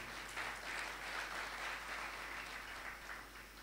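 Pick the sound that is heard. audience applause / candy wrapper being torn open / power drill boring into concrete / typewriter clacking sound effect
audience applause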